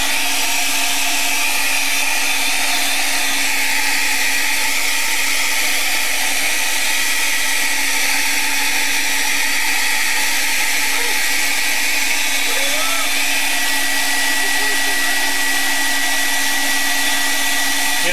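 A hair dryer blows steadily on wet acrylic paint, a continuous close whooshing drone that holds at an even level throughout, with faint voices murmuring underneath.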